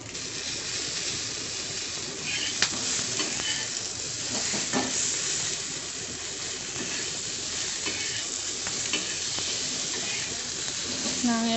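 Tomatoes sauté in a pan for country chicken curry with a steady, close sizzle and hiss, broken by occasional scraping stirs.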